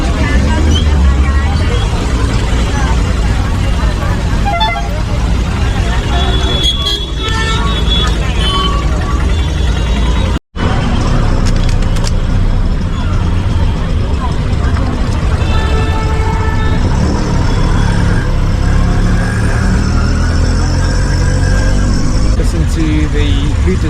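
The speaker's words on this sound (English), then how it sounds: "Rush hour traffic in Pune," Rush-hour street traffic in Pune, India, rumbles continuously with passing engines and road noise, and someone talks over it throughout.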